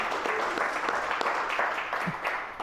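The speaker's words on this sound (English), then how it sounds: "a round of applause for that" Audience applause for the 100th anniversary of Malcolm X's birth at a conversation event, a dense steady round of clapping that holds level and starts to fade near the end, with no voices over it.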